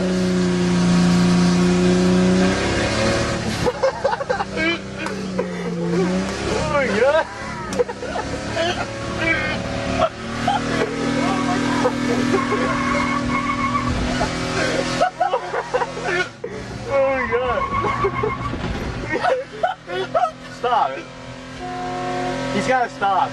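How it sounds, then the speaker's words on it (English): A 1989 Ford Ranger 2.9 with open headers screams at high revs during a burnout, the raw engine roar rising and falling under excited shouting, with sustained tire squeal and crackling exhaust throughout, loud and close. "You gotta rev it higher!"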